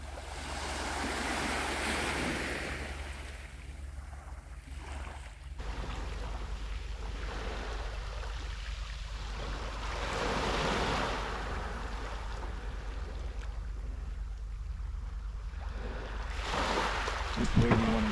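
High-tide ocean surf at Fundy National Park washes in a continuous rolling roar, with gusts of wind buffeting the microphone and soft footsteps nearby.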